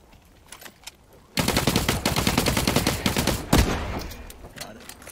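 Rapid automatic gunfire in The Cycle: Frontier, a few scattered shots followed by a loud sustained burst of close, fast shots that tapers into sporadic fire.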